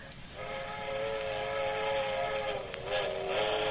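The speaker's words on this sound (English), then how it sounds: "That's what I like best, them train whistles." A steady train whistle sounds in an old-time radio drama, a long sustained harmonic wail held loud and unbroken, with the low rumble of the railroad beneath it.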